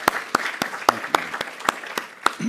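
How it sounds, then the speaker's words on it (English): An audience at a US healthcare policy event at Heinz College applauds the event's sponsors with crisp, evenly spaced handclaps, clear and fairly close, with no talking over them. "Dean Krishnan and Professor Gaynor a big round of applause for sponsoring this event."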